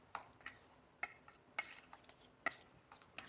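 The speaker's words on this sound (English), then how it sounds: "Let's stir that up." Spoon stirring a soy sauce, rice vinegar and sugar dressing in a small dish, a series of faint sharp clinks against the side at an uneven rhythm.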